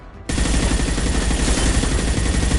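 Sustained automatic gunfire from a Mass Effect 2 firefight on a mezzanine, loud and dense, bursting in abruptly after a brief quiet moment and continuing as a relentless rattling barrage with no speech.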